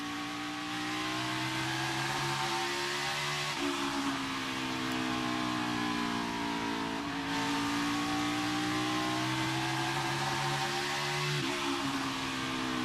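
NASCAR stock car engine held at full throttle during the Bristol night race, a steady loud roar with pitch shifts as the car cycles through corners, repeating every few seconds, no talking.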